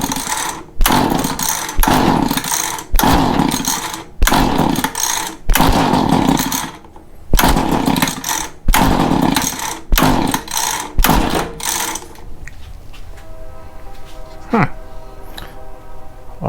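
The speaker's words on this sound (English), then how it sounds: "So I'm full throttling it." A Mantis tiller's small engine runs at full throttle in loud, rapid bursts broken by brief drops, then falls to a lower idle with a steady hum and a short knock near the end.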